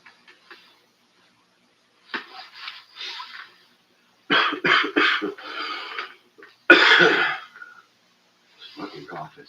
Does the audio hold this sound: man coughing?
yes